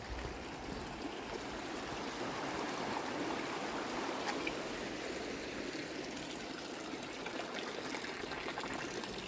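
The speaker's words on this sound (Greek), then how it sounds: "Το συντριβάνι." A public fountain in Fribourg flows in an old residential street, its water pouring in a constant, even rushing wash heard at moderate distance, with no voices over it.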